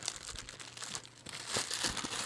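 A plastic bag being twisted and tied, close crinkling and crumpling that rises and falls in short bursts, louder in the second half, with no voices.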